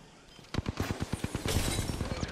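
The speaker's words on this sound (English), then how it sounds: "The enemies are shooting at me." Enemy gunfire in a video game arrives as rapid, irregular clusters of sharp shots that overlap into a busy, close firefight lasting around two seconds.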